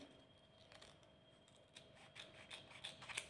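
Scissors snipping paper for a collage, a few quiet close crisp cuts that get busier toward the end, alone with no talk.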